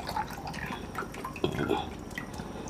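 Noodles dipped into hot water give soft sloshing, dripping and splashing sounds close by, quiet and irregular, with a slightly louder splash in the middle.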